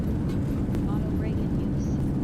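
Airliner reverse thrust on landing in a flight simulator, a heavy continuous low roar filling the scene at steady loudness, with a voice speaking over it.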